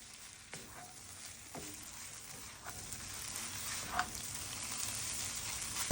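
Crab fried rice sizzles steadily in a hot pan as it is stirred, with a continuous hiss and occasional scraping clicks of the utensil, building slightly louder toward the end.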